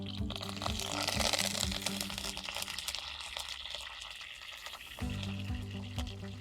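Green chillies and curry leaves sizzle and crackle loudly in hot oil in a pan, a dense continuous frying hiss with sharp pops that dips briefly before surging again.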